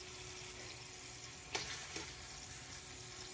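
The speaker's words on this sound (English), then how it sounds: "I'm gonna start adding the sausage." Hot sausage frying in a pan with jarred sauce, a soft steady sizzle with two brief clinks or stirring touches, heard alone and at low level.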